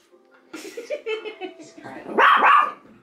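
A dog indoors barks and yips in short, excited bursts at dogs on a TV, loud and close, with a louder cluster near the end and a person's voice mixed in.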